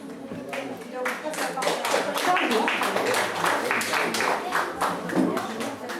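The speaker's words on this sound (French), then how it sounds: "Que d'applaudissements." Audience at a general assembly in Salindres breaks into steady, dense clapping that fills the room at moderate volume, with some voices murmuring underneath.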